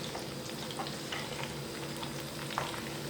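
Mango pickle spices, nigella and mustard seeds, roasting in a pan with a steady soft sizzle and faint crackling pops throughout, close and even, with no talk.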